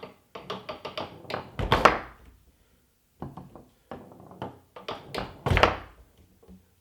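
A foosball ball rolling off the wall of a table and being passed between rods, heard as a series of close, crisp thunks and taps in two bursts with a short pause between.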